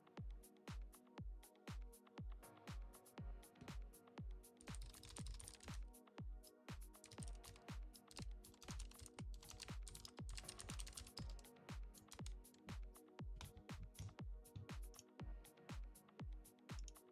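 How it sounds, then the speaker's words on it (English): Steady, fast typing on a computer keyboard, each keystroke a crisp close click in a continuous rhythmic run of dozens of presses, fairly quiet and with no voices over it. "I like the sound of your keyboard"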